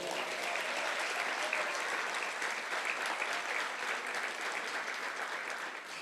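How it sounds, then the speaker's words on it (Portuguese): A church congregation applauds, a steady, dense wash of many hands clapping at moderate distance that stays even for the whole stretch. "um aplauso ao Senhor"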